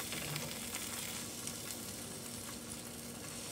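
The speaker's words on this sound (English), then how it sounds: "now we're gonna sizzle the Spam" Steady, close sizzling of Spam frying in a hot pan, a continuous crackling hiss with no talking.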